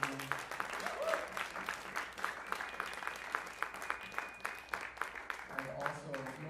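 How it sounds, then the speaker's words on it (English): Applause from the audience at a jazz drums master's recital, continuous clapping with a few louder individual claps, a brief sustained tone and faint voices mixed underneath. "please, another round of applause for them"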